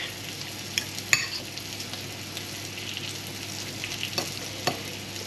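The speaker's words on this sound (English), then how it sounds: "There you can hear the chicken sizzling in the background." Chicken sizzling in a frying pan while pasta alfredo is being made, a steady close crackle of frying with a few sharp clinks and stirring knocks on top, no voices.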